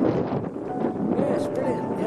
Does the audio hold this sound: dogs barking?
no